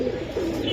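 Silver pigeons with red eyes coo in a low, rolling murmur of overlapping calls, near and moderately loud, without any talking.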